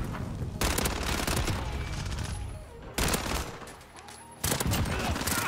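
Rapid automatic bursts from the Fennec gun in Modern Warfare, three dense loud volleys separated by short pauses, with faint game sounds between.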